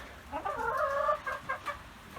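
Chickens and roosters wander a coop, giving a short run of close, moderately quiet clucks and calls with no voices over them.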